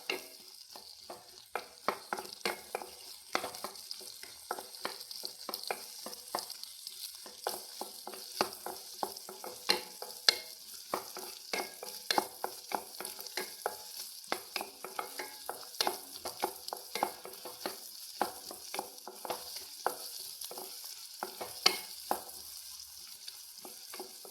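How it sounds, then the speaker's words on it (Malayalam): Sliced banana and grapes being stirred as they fry in a pan, giving a soft continuous sizzle broken by many quick scraping and clicking spoon strokes, fairly quiet, with no talking. "ഇത് നമുക്ക് ഇട്ട് കൊടുക്കാം നമുക്ക് ഇളക്കി കൊടുക്കാം"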